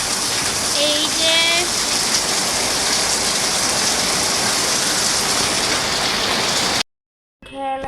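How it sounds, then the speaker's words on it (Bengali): Heavy rain pouring steadily in Bangladesh, a dense even hiss of falling water throughout, with a few brief bird chirps early on and a sudden cut near the end. "অনেক বৃষ্টি হচ্ছে আজকে।"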